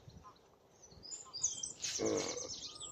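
A wren gives a quick burst of chirping calls, faint and somewhat distant, over quiet outdoor background.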